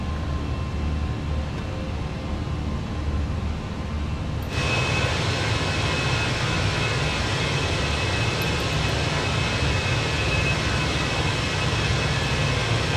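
Air conditioning pack 2 of an A320 in Flight Simulator 2024 switches on partway through, a broad steady rushing airflow rising above the constant cockpit hum and continuing loud and even to the end.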